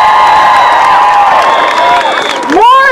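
A large outdoor crowd at a rally cheers loudly, with whoops and shouting voices rising over steady applause, dense and close throughout.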